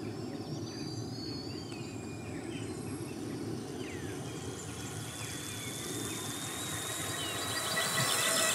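Tiny 1kW electric bike motor in a drag race against an e-bike motor, a faint steady hum with thin high-pitched whines climbing in pitch as they spin up, growing slightly louder toward the end.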